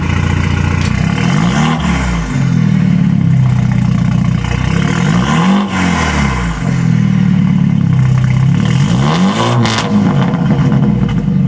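A BMW 330i four-cylinder with a catless downpipe and straight pipe, exhaust valves closed, revs loudly and close up, its engine note repeatedly climbing and falling through several throttle blips with no one talking.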